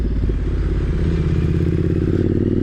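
Triumph Street Scrambler 900 twin-cylinder motorcycle with freshly repaired ABS and speedometer on a test ride, its engine thrumming close and loud in a steady, even drone with faint mechanical clatter.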